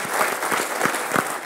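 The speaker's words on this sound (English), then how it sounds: "Let's give them a round of applause." Short burst of audience applause at the RobotsConf 2013 conference, a steady wash of many hands clapping with a few distinct claps standing out.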